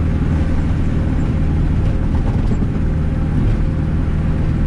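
500HP turbo K24 car pulling hard on a street, a loud, dense, steady engine roar filling the whole stretch with no talking.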